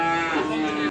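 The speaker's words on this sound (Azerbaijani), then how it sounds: "Erkək danadır." At a livestock market in Beylagan, a young male calf lets out one close, short, nasal moo that lasts about a second, with faint market bustle around it.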